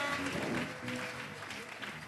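A church congregation applauds the Lord in a dense, steady patter of clapping that carries on throughout, with voices mixed in under it.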